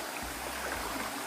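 Water pours steadily into a gorge pool from a waterfall near Pentecost, a dense, continuous rushing wash with low gurgling underneath, close and unbroken, with no voices.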